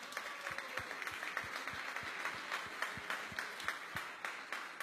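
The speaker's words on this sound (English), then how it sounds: "So give him a big applause" Applause from an audience for a martial arts coach, a steady, fairly faint patter of many hands with a few sharper claps standing out at a regular pace, heard from some distance with no talk over it.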